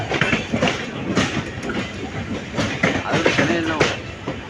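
An intercity passenger train rolls into Erode Junction, its wheels clattering steadily over rail joints, loud and close throughout with a continuous rumble and brief metallic squeals.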